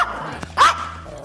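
A Chihuahua gives a single sharp, loud bark close by after a faint earlier yip, with brief quiet around it.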